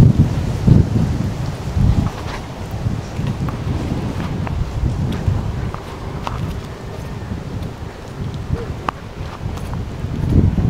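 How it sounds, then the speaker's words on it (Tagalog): Heavy rain pours steadily at the Three Crosses in Paete, Laguna, a dense continuous hiss with low rumbling thunder rolling underneath and occasional gusts, with no one speaking. "Lakas ng ulan."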